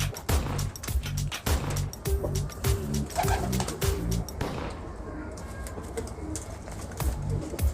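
A Teddy breed pigeon, held in the hand, coos in low repeated throaty pulses close up, while someone talks over it in a steady voice.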